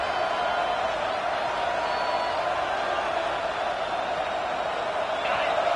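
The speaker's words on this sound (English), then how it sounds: "this crowd trying to help keep them there" Stadium crowd at an American football game, a steady wash of cheering and noise from a large audience, heard under continuous commentary.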